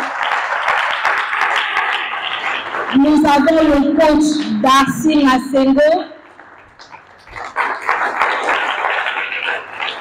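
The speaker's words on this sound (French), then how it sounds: "Sous vos applaudissements, s'il vous plaît." A seminar audience applauds as first-panel members are introduced: a loud burst of clapping, then a voice over a microphone announcing a name, then another round of applause.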